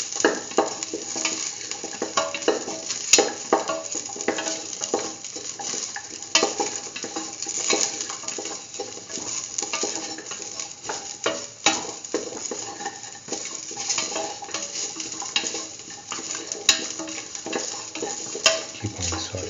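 A spoon stirs and mixes a salted chickpea and beetroot stew in a pot, a steady scraping and gentle bubbling sizzle with scattered clinks against the pot, continuing close up without any talk.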